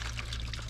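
Boiling water splashes and trickles as it is poured over a corroded positive car battery terminal, a short close liquid pour heard alone.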